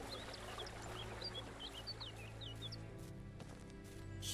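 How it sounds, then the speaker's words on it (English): Chirping birds in The Beast Inside, a horror video game set in woods, with many short bright calls scattered over a steady ambient bed and a low hum, fairly close and continuous. "Shut up, birds."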